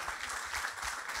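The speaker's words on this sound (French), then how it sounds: "Applaudissements pour l'encourager" Audience at an October 17, 1961 commemoration applauds to encourage a young girl about to read a poem; faint, fairly distant, steady clapping from a crowd, brief and without talk.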